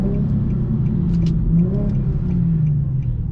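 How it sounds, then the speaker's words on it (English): An Infiniti car engine in manual mode hums steadily with a low, rising and falling rev during a downshift, heard from inside the cabin with faint clicks over the drone. "that's how you downshift right there, all the way to 0"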